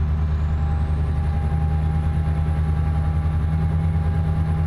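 A Scania truck engine in Euro Truck Simulator 2 idles with a steady, deep low rumble and a faint high whine, continuous and close throughout.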